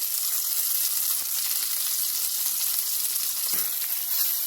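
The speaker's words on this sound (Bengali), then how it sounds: "আমি এইভাবে একটু গায়ে লালচে লালচে ভাগ করে পটলটা ভেজে নেব।" Pointed gourd (potol) coated in salt and turmeric frying in a pan, a loud, continuous bright sizzle with a couple of brief clatters.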